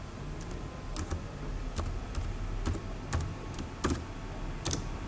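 Typing HTML tags on a computer keyboard: a dozen or so crisp, close key clicks at an irregular pace over a quiet room background.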